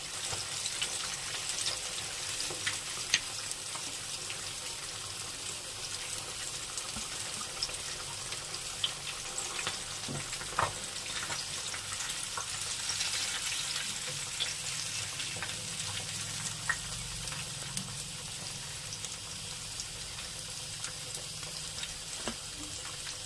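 Fish pieces fry in hot oil for a spicy fish fry, a continuous busy sizzle with scattered crackles and small pops, steady and close throughout with no talk.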